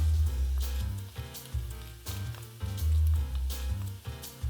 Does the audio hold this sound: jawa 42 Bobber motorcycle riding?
no